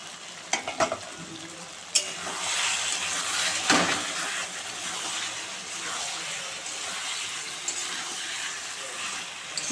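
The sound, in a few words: duck meat frying and being stirred in a pan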